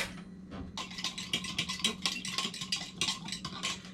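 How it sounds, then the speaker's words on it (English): A spoon stirs sugar into a yeast mixture in a bowl, with quick, steady clinks and scrapes repeating against the sides, close by under a low kitchen hum. "we'll give that a stir"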